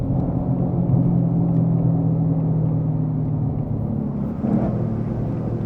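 A car engine with an X-pipe exhaust idles with a deep, steady exhaust rumble, then a brief rise in revs near the end.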